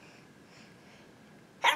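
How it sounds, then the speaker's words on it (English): A toddler's single short, sharp sneeze bursts out at the very end after near silence, close and fairly loud. "Was that a sneeze?"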